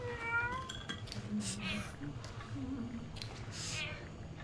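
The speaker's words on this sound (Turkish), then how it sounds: "içeride kedi var" A cat meows repeatedly in the video game Hello Neighbor 2, several clear, close meows with light clinking of dishes in the background.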